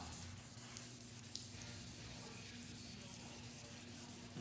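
Quiet, continuous wet sanding strokes on car paint of a 1967 Mustang with 1,000-grit paper, with a soft rhythmic swishing and a faint steady hum underneath.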